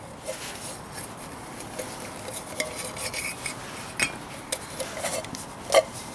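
A titanium camping pot and its lid are handled, giving light metallic clinks and scrapes, small taps scattered irregularly with one sharper ring near the end, close and fairly quiet.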